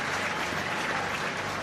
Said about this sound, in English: he's getting a round of applause for just that